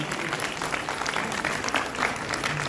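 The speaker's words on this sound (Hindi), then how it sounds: "तालियां बजती रहनी चाहिए।" Continuous clapping from a gathered crowd at a retirement ceremony at IVRI Bareilly, even and unbroken for a few seconds with no voices standing out.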